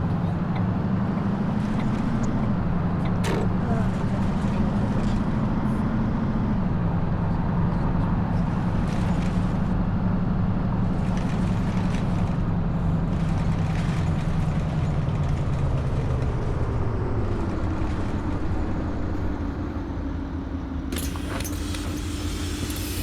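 A VDL city bus in the driving game The Bus gives a steady engine drone with a low hum that shifts pitch as it changes speed. Occasional clicks and rattles sound over the engine, and no one talks.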